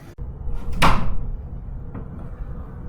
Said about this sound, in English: And I open the door.